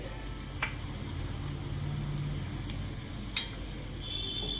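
Onion frying in a pan during okra curry preparation, a soft, low sizzle with a few scattered light clicks, fairly faint against a steady background hum; no talking.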